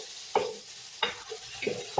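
Tomatoes going into a hot pan with garlic and meat: a steady high sizzle runs throughout, broken by four short scraping stirs spaced about evenly apart.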